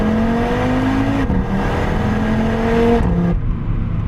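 An Audi RS3's five-cylinder engine accelerates through the gears, a loud rising tone that climbs, drops at each shift, then climbs again.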